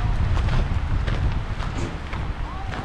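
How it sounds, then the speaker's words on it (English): Strong wind buffets the microphone on the Stawamus Chief hiking trail in Squamish, British Columbia, a loud, continuous low rumble with gusty surges throughout. "Really windy today."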